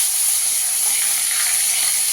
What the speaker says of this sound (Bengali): এবার মাছটা ভেজে নেব